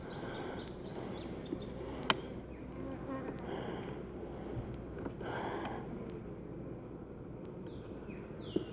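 Honey bees buzz densely inside an open hive holding capped and open brood, a continuous close hum with a steady drone and occasional louder passes near the listener.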